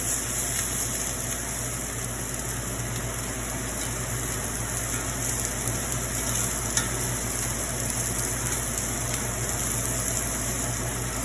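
Scallops seared in hot oil with salt and pepper, a steady, close sizzle and crackle that holds throughout with no talking.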